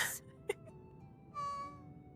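A cat gives a short, faint meow in a quiet room, with a brief soft bump just before it while Final Fantasy XIV plays.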